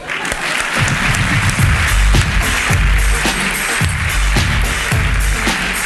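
Loud, sustained audience applause at a live comedy stage show, a dense, continuous wash of clapping with low rumbling tones and faint voices mixed underneath.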